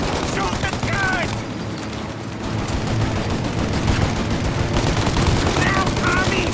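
Sustained gunfire from a shootout in Mafia: Definitive Edition, a dense continuous barrage of shots with voices shouting in the background throughout.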